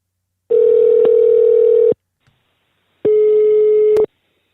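Two long, loud steady telephone tones sound during a call to a friend, each about one and a half seconds, separated by a silent gap, with a brief click near the end of each.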